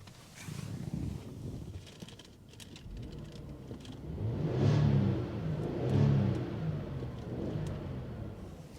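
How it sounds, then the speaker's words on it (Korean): A 2018 Genesis G80 engine idles low and steady, swelling briefly into a couple of revs before settling back to a rumble. "엔진 소리 한번 들려드릴게요."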